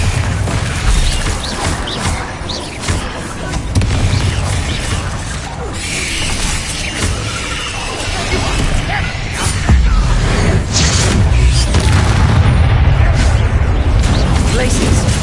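Bombarda spell explosions booming and crashing in the Hogwarts Legacy video game, a dense, loud run of blasts and impacts with spell-casting shouts over the top.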